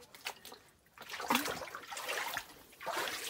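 Water sloshing and trickling at high tide inside Timubo Cave on Camotes Island, Cebu, a continuous near wash of splashes and gurgles that rises and falls over a few seconds.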